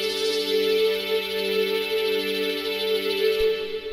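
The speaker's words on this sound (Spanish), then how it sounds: "La primera es un sonido que tiene un LFO." A mini synth pad layered with an LFO wobbles steadily, a sustained chord pulsing with a gentle vibrating modulation, moderately quiet and alone.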